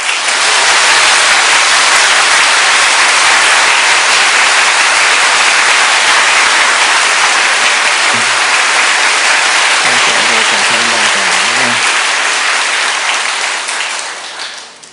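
A large church audience claps loudly and continuously, a dense wash of applause that holds steady before fading at the end. A few voices are faintly heard beneath it.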